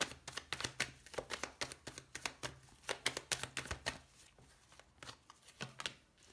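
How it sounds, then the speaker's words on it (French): Tarot cards being shuffled by hand, a rapid run of crisp riffling flicks and soft slaps in close, quiet bursts with short pauses between them. "maintenant on va aller voir les finances"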